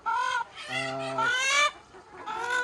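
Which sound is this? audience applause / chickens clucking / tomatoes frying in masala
chickens clucking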